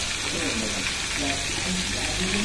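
Chicken frying in a pan makes a constant, loud, close sizzle, while a voice speaks over it throughout.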